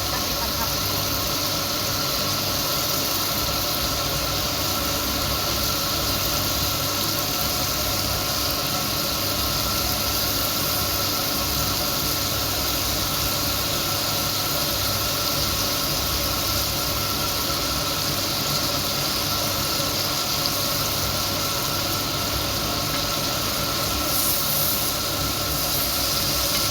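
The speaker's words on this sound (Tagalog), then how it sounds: "Maingay yung aming exhaust" Loud exhaust roaring steadily and unchanging from a cooking setup used to grill lamb liver, kidney and heart, a continuous hissing rumble close by with no break.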